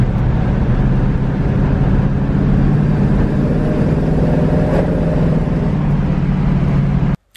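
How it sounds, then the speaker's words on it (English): A classic car's engine idles steadily up close, a loud continuous low rumble with no voices, cutting off abruptly at the end. "You just have to hear my engine."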